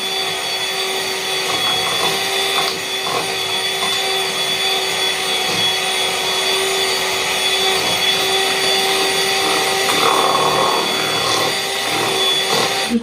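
An electric mixer whips cream for a chocolate dream cake, a loud, steady motor whir with a sharp tonal hum and faint scraping against the bowl, running continuously with no speech.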